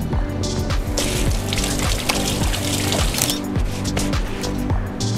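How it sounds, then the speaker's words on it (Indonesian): Hands are washed under a running tap, with steady water flow and splashing throughout, close and fairly loud, with no talking. "Saya mau cuci tangan dulu"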